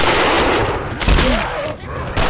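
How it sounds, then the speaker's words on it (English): Rapid gunfire from weapons in the zombie shooter Left 4 Dead 2, loud bursts of shots running across the whole moment over game noise, with a voice speaking briefly partway through. "Watch where you're shooting!"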